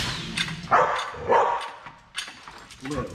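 A shop dog barks a few times in an auto repair garage during suspension work, short sharp yelps close by with faint shop noise and brief voices around them.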